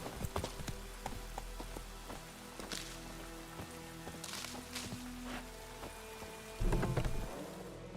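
Steady rain patters in the video game The Witcher 3: Wild Hunt while thunder rumbles and cracks several times, with a louder crash near the end; no voices.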